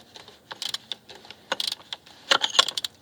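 A socket wrench works loose the oil filter on a Mercedes W163 M-Class, giving light metallic clicks and rattles in irregular bursts, close and moderately quiet, with no talking.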